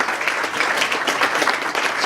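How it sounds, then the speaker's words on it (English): A round of audience applause thanking guests of honor and speakers at an emceed event, dense and even with closely packed claps continuing throughout at moderate loudness. "will you help me thank our guests of honor, our speakers, with a round of applause"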